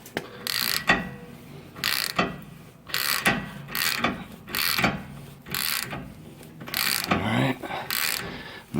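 A ratchet tightens a wheel stud installer tool down onto a wheel stud, producing about eight close, rhythmic bursts of clicking, evenly spaced roughly a second apart with short pauses between.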